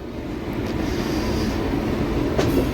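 A train rolls into a neighbouring platform at Chennai Central station, its steady, heavy rumble filling the station without pause.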